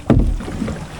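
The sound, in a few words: motorboat travelling out to sea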